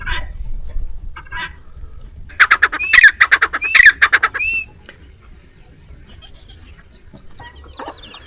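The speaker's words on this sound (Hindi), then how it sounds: "कैसी खूबसूरत आवाज़ निकाल रहा है ये चिकोर परिंदा।" A chukar partridge gives a burst of loud, rapid chattering calls, repeated in quick rising series, then fades to quieter distant chirps over faint background noise, in a Pakistani village.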